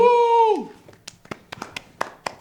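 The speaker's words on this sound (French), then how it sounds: "Ouais, on applaudit." A sustained tonal note at the start gives way to scattered, sparse hand claps from a small group on a French celebrity game show, about a dozen separate claps with gaps between them.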